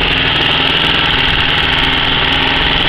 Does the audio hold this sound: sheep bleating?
no